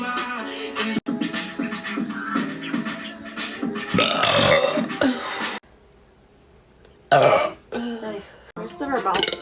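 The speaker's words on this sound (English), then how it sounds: "Do an on-command burp." A person lets out a long, loud rumbling burp, with people talking and laughing around it in a close indoor setting.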